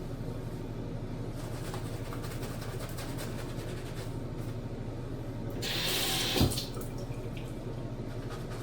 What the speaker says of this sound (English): Ooh, that water just came out of there.